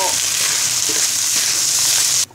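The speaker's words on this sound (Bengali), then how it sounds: "এবার কড়াইতে দিয়ে দিব এবার কিছুক্ষণ ভেজে নেব" Loud, steady sizzling of rice and lentils frying in a hot pan for beef khichuri, with faint stirring underneath.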